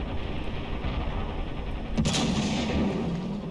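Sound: armor-piercing tank cannon fire in video game Ravenfield

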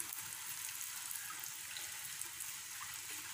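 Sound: sugar athirasam frying in hot oil

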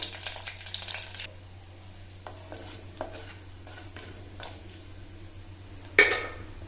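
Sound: curry leaves and spices frying in oil for tempering

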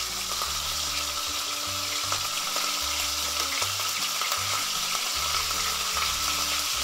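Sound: searing venison roulades in fat in a pan

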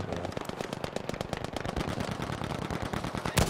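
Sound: gunfire in Battlefield V video game

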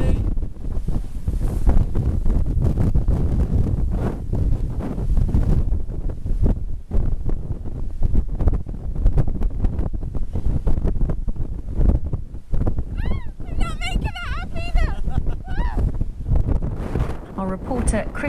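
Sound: strong wind during Storm Callum at Porthleven, Cornwall

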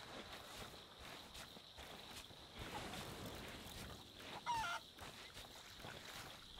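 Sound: chickens clucking in video game Sea of Thieves

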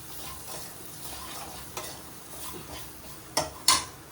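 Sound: tempering dal, frying and stirring in pan

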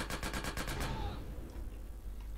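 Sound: gunfire in the video game GTA San Andreas

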